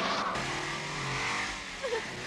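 A motor scooter ridden by a beginner revs and accelerates. The engine whine climbs in pitch over about two seconds, with other vehicle noise around it.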